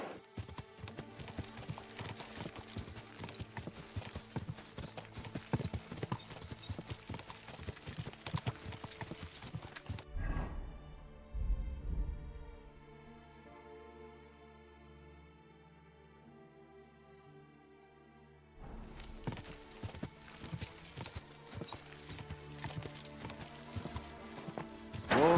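Horse hooves clop in a steady walking rhythm in the video game Kingdom Come Deliverance 2, fairly close and continuous, dropping away during a quiet stretch in the middle before resuming.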